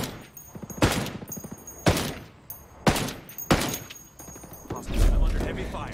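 Gunfire in the video game Ghost Recon Wildlands, several loud sharp shots spaced about a second apart, then a heavier rumbling blast near the end.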